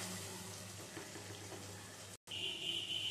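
Water used to rinse a mixer grinder jar is poured into a cooking pan, a soft steady splashing pour that briefly cuts out before resuming with a higher hiss.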